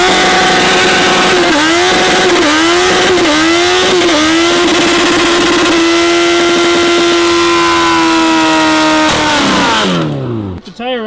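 Suzuki Hayabusa 1300cc motorcycle doing a burnout, its engine holding a loud, steady high-revving wail with wavering pitch dips early on, then cutting off near the end.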